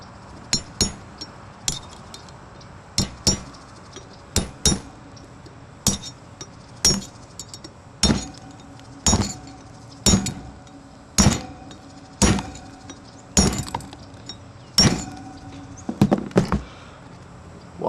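A hammer taps a new bearing race into a trailer hub with sharp metallic strikes, about one per second. The blows come singly or in quick pairs, close and crisp, over a faint background.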